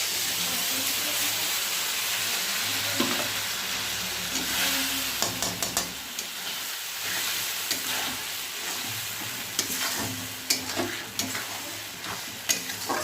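Mustard and chili spice paste hits hot oil in a pan alongside nearly fried potatoes for a mustard fish curry, giving a steady close sizzle broken by repeated stirring scrapes and utensil clinks.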